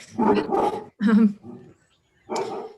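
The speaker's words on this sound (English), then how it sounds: "Just as my puppy starts to bark." A puppy barks indoors in three close, loud bursts of yapping, with short silent gaps between them and no talk over it.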